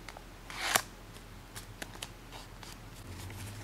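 Paper folded by hand for an origami hexagon box lid, a soft crinkling swish near the start followed by several faint creasing taps and rustles, close and quiet.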